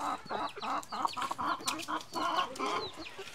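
A freshly caught chicken clucks nervously, close by, in a rapid string of agitated, rising clucks and squawks that carries on throughout.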